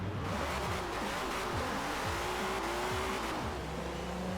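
A wheelspin drift-build car in Forza Horizon 4 revs hard through repeated rising and falling engine sweeps, with tire squeal, loud and continuous throughout.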